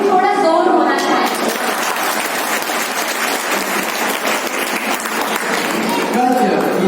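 An audience at a school annual function and award ceremony claps loudly and steadily for several seconds, dense and continuous, swelling at the start and easing slightly near the end.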